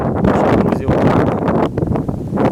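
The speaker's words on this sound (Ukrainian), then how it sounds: "Вітер, коротше, наш шторм, можна сказати." Strong, stormy gusting wind at a night fishing spot in Ukraine buffets the microphone in a steady, heavy roar, with a voice partly buried beneath it.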